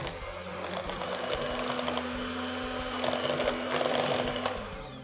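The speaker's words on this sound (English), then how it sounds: "I'm using an electric blender to make sure this is nice and smooth." An electric blender whirs steadily through sweetened condensed milk, a close, continuous motor buzz with a faint whine and slight fluctuations, no talking.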